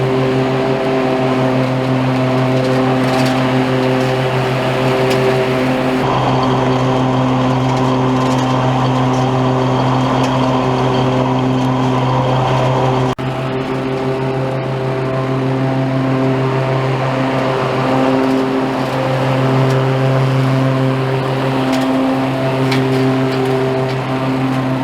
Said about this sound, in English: just a little quick mowing footage with Keith.